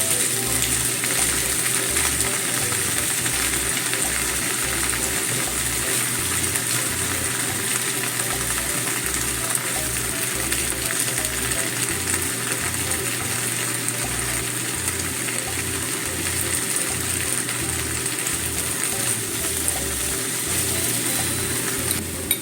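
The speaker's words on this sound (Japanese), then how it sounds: "うどんを入れます。 そして一緒に炒めていきます。" Udon noodles and vegetables stir-fry in a pan with a loud, steady hiss and sizzle that runs without a break for over twenty seconds, over a low rhythmic thumping.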